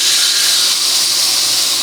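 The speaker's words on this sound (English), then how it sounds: "And here, listen to this sizzle." Steak sizzling hard in a hot pan, a loud steady broadband hiss and crackle that holds evenly throughout, close up with no talking.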